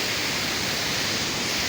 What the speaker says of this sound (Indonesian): Kita masih di air terjun Tarempa, yang di tempatnya Tarempa, Kabupaten Anambas, Kepulauan Riau.